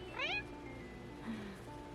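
A cartoonish cat meows in the video game Purrfect Date, two short rising, chirpy mews over a soft steady game music bed, fairly faint, with no one talking.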